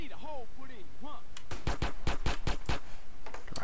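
A rapid burst of AK automatic fire in GTA San Andreas, about a dozen sharp cracks in quick succession following some brief synthetic chirps, then a few more scattered shots.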